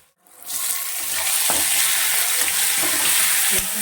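A coarsely ground spice paste hits hot oil in a pan for a village-style green pigeon pea amti, erupting after a brief silence into a loud, steady, hissing sizzle with a few faint clinks.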